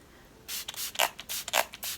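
A Smashbox setting spray pump misted several times in quick succession, short breathy hisses close to the microphone with small clicks of the nozzle, no voice during.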